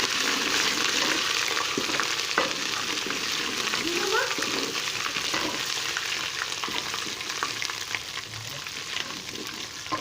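Ginger garlic paste fries in a pan for an aloo baingan sabzi (potato and eggplant curry), giving a steady, loud sizzle throughout, with occasional scraping and clinks from stirring and faint voices in the background.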